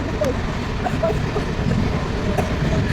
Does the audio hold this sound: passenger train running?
yes